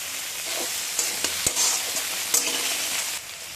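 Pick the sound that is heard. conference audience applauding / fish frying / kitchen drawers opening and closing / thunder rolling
fish frying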